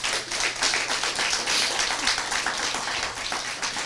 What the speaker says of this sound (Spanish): Dele un aplauso al Señor en este momento